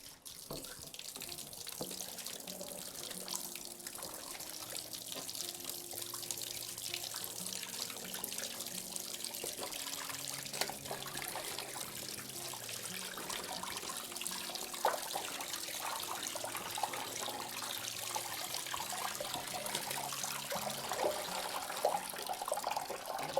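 Fabric eco-printed with plants being washed by hand in a sink of water with gentle olive oil soap, steady running and sloshing water throughout with a soft low tonal hum underneath, no voices.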